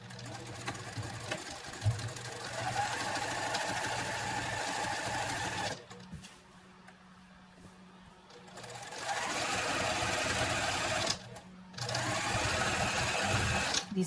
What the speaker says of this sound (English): because I'm going to be sewing on the line